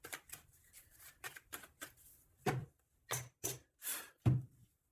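Oracle cards are shuffled and cut by hand, with a series of short, crisp riffling bursts separated by brief silences, close and moderately quiet.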